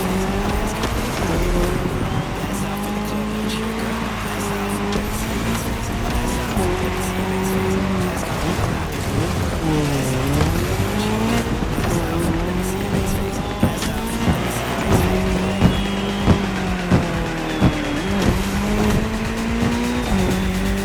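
Race cars in The Crew Motorfest video game drive on tarmac, engines revving up and down through gear changes with tire squeals and cars passing close, continuous and loud.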